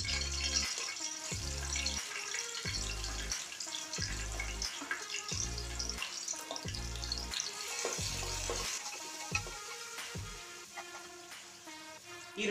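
Onion frying in a pan for fenugreek-leaf pulao, a continuous close sizzle and crackle running throughout, with brief muffled knocks pulsing beneath it.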